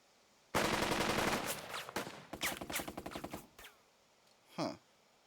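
Rapid bursts of gunfire from the WWII strategy game Burden of Command, two long rattling volleys of automatic fire with a short gap between them, then a few scattered shots and one last sharp report.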